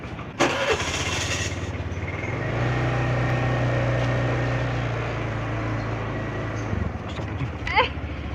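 A motorbike engine is started up and settles into a steady, fairly loud mid-pitched running drone before cutting off near the end, with voices talking over it.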